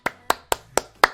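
Five sharp hand claps at a slow, even pace, close and distinct with brief silence between each.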